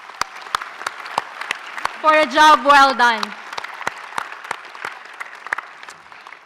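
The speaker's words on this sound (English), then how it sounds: "let's give ourselves a warm round of applause" Graduates at a university ceremony in Brisbane break into scattered, moderately loud applause beneath a speaker's voice, with clapping continuing steadily throughout.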